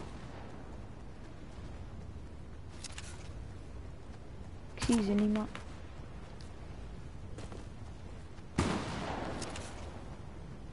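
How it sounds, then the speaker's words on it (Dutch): Distant gunfire in an online shooter game pops in a few scattered bursts over steady background noise, while a player speaks Dutch. "Oh ja, ik hoor ook schoten daar, maar ook ergens anders hoor ik nog schoten in het noordoosten."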